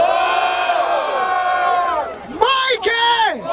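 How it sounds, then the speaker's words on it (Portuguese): A large crowd cheers, shouts and roars at a street rap battle in Barueri, São Paulo, a loud sustained wave of voices that dips and then swells again in bursts. "Barulho para as rimas do Refel"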